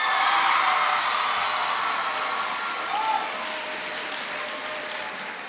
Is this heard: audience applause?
yes